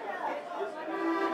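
Busy indoor crowd chatter in a German restaurant, many overlapping voices murmuring together at a steady, moderate level.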